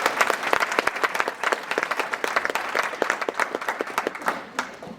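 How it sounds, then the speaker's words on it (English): A large crowd applauds steadily, many hands clapping densely together, loud and sustained before tapering slightly near the end. "Another round of applause."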